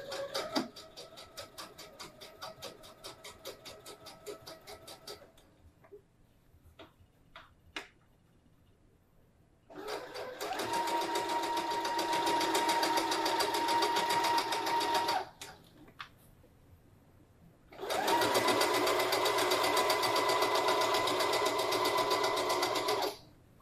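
A sewing machine stitches around a drawstring bag in several loud, sustained bursts separated by pauses with faint ticks and fabric handling, including a short reverse run to lock the stitches.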